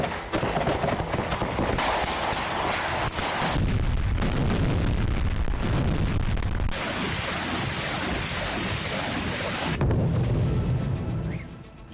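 Explosions and artillery fire in war footage, a dense, loud barrage of booming blasts and rumbling impacts that runs almost without pause, with harsh bursts layered over a deep continuous roar.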